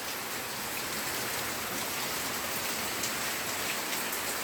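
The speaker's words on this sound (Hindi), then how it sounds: "अभी बारिश हो रही है ज़बरदस्त।" Heavy rain pours down steadily during an Independence Day celebration at a house decorated with tricolour flags, a dense continuous hiss of drops drumming on surfaces close by, with no voices.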